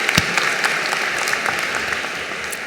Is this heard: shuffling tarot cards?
no